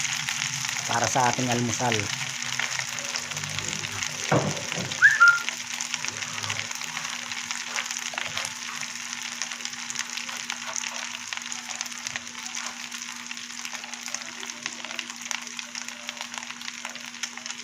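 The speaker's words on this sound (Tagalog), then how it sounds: "Magsisimula na tayong magluto ng fried rice" Leftover cooked rice frying in a pan for breakfast fried rice, a steady close sizzle with a brief stirring clatter early on, while someone speaks briefly.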